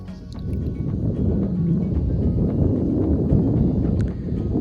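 A deep, continuous engine rumble of a motorboat coming in at full throttle into shallow water off Thailand, loud and close, with wind buffeting the microphone and water sloshing.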